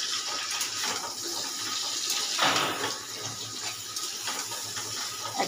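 Broad beans tipped into hot oil in a home kitchen pan, frying with a dense, steady sizzle that swells briefly midway and then settles into a continuous crackling hiss, close and fairly loud.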